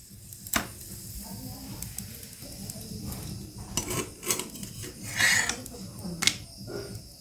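A frying pan is set down on a gas stove while egg rolls are prepared, giving a few sharp metallic clanks and clatters over a low, steady background hum.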